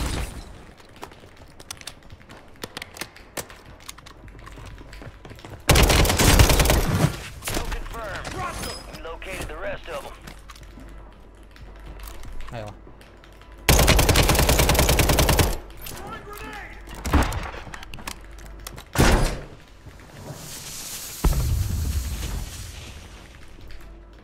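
Several loud bursts of rapid Uzi submachine gun fire in Call of Duty: Warzone, separated by quieter stretches with scattered shots and a person talking.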